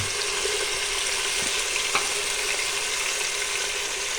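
Peas and chopped carrots frying in a pan for chicken corn soup, giving a loud, steady, close sizzle that holds throughout, with one or two faint utensil taps and no talking.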